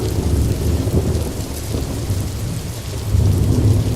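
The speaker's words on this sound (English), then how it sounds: "The second one is rainfall." Steady rainfall with distant rumbling thunder, a continuous dense wash of drops that swells louder near the end, with no voices.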